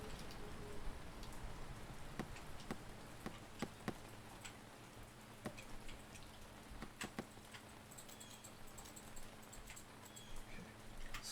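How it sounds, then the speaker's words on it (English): Rain splatters onto terrain in a medieval RPG sandbox game, a steady soft hiss of falling rain with scattered sharper drop ticks throughout, fairly quiet and without voices. "we can see the rain splattering onto the terrain, which is really awesome"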